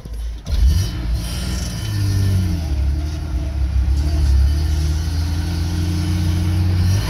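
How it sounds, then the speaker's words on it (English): A Toyota Lux engine idles roughly after a brief startup rev, settling into a lumpy, uneven low rumble that stays loud and close for several seconds. "That lumpy idle though."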